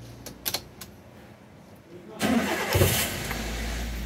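A car engine cranked by the starter and catching into life, preceded by a few faint clicks, then a loud surge that settles into a steady idle.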